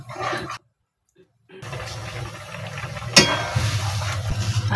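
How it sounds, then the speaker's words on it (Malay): Turmeric-spiced chicken kalio liquid bubbles and simmers in a pot with a soft continuous gurgle, interrupted by a brief silence and a sharp clank of a utensil. "Tunggu mendidih."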